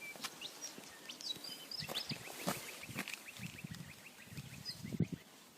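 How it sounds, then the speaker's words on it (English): In remote open countryside, faint birds chirp and call intermittently over a quiet outdoor background, with scattered short tweets and a few lower fowl-like calls during a stop on a motorcycle ride. "Listen to the birds singing."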